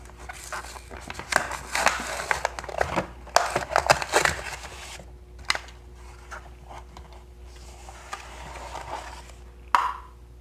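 A Matchbox 1993 Ford Mustang LX SSP 5.0 police car toy in silver and black is pulled from its packaging, with close, irregular bursts of crinkling plastic and cardboard rustling that settle into quieter handling.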